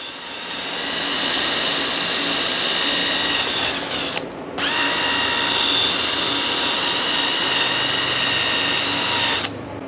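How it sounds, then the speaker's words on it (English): Power wire brush working over a hydraulic cylinder port during a port replacement, a steady loud high-pitched whirring grind with a brief cutoff near the middle and again at the end. "I like to come around with my wire brush here"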